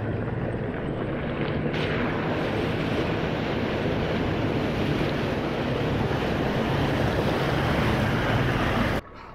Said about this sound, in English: It's a nice little creek, nice little set of rapids up there.